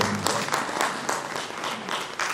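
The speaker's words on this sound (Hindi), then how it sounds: "ताली बजा कर स्वागत भी कर सकते हैं" An audience at a regional convention inauguration claps steadily in a continuous wash of applause, welcoming guests on stage.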